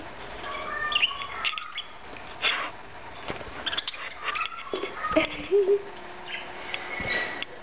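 Pet budgies chirp and chatter in a room, a scatter of short bright tweets and warbling calls coming and going at moderate loudness, with no speech.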